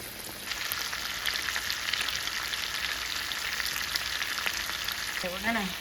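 Squash and bacon sizzle and crackle steadily in an overfull frying pan, a dense continuous fry with occasional scraping stirs; a brief tonal squeak near the end.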